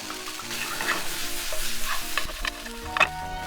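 Celery and cherry tomatoes stir-fry in a frying pan, a steady sizzle broken by scraping stirs and a few sharper clacks of the utensil, close and without any talking.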